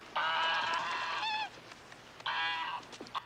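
A goose honks in the 1983 fantasy film Krull, two bursts of loud nasal honking close up, the first longer and wavering, the second shorter after a brief pause.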